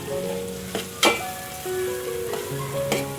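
Red chili powder and turmeric sizzle in hot oil over a low gas flame, a steady soft hiss broken by a few sharp scraping stirs, with tuneful background music running throughout.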